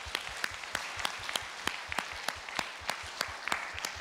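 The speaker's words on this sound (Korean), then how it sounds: "우리 하나님께 영광의 박수 올려드리겠습니다" A church congregation claps in steady rhythmic unison, crisp regular beats repeating about three times a second, fairly close and even in loudness, with no speech over it.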